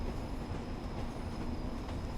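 Blackpool branch line Pacer train in Train Sim World 4 running in snow, a steady rumbling roll of wheels on track with a constant hum, alone and fairly near.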